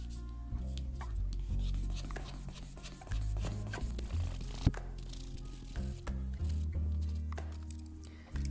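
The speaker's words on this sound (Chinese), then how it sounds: "就要用低目数的粗糙一点的砂纸把它先打短，然后再去进行抛光。" Coarse low-grit sandpaper rasps against a guzheng fingernail pick in rapid back-and-forth strokes, close and fairly quiet, with brief pauses and a faint sharp knock midway.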